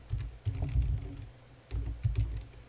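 Keys clatter on a computer keyboard in two short quiet bursts of typing, close and soft with a pause between them.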